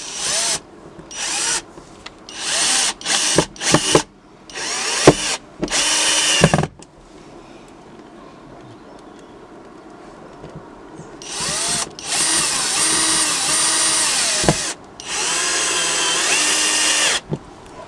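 Power drill driving screws into wood while fitting a water inlet to a campervan, in short bursts of whirring close by, then two longer steady runs with a brief pause between.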